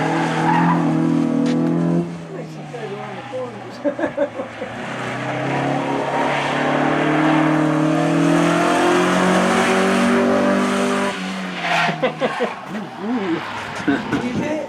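A stock Mazda Miata is driven hard on a race track, its engine droning and tires squealing loudly through corners, with voices talking over the car noise.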